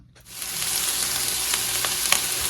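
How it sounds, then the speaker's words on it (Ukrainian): Steady, close sizzling of meat heating in a frying pan, with a constant hiss and occasional faint pops, no voices. "М'ясо трішки грію на сковорідці"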